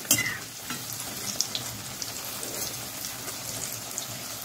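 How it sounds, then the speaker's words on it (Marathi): Onion-potato bhaji deep frying in hot oil, a dense, continuous crackling sizzle like steady rain with a brief louder burst at the start, close and even throughout, no voices. "मी बाकीची भजी पण परत एकदा तळून घेत आहे."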